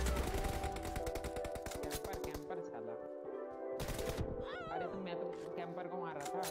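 Rapid bursts of gunfire in a shooter video game, a fast automatic rattle that stops, then one more sharp volley, with someone speaking over the shots throughout.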